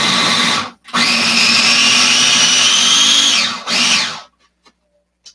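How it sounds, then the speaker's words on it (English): A food processor chops a vegan nugget mixture for a kid-friendly dish in a loud, steady whirring burst lasting about three seconds, broken by a brief pause and followed by a short final pulse before the motor stops and silence returns. "And then we have our food processor,"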